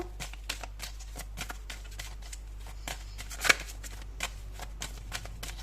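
Tarot cards being shuffled and drawn by hand, a soft quick run of papery riffles and flicks with one sharper snap near the middle, close and fairly quiet over a low steady hum.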